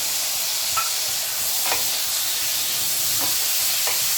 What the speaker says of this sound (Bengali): এবার আবার একটু ভাজা ভাজা করে নেব।